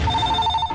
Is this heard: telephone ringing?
yes